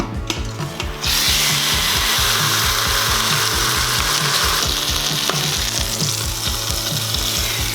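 Beef sears in vegetable oil in a pot on high heat, a loud, dense, continuous sizzle that bursts in after a short quieter start and then holds steady throughout.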